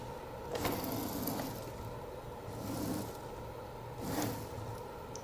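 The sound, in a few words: B9 robot bubble lifter mechanism lifting up and down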